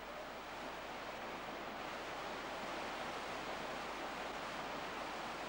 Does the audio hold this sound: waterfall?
yes